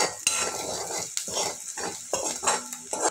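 Onions frying in a pan with a spoonful of salt being stirred in, with scraping and clinking of a spoon against the pan in uneven bursts over a soft sizzle, close up.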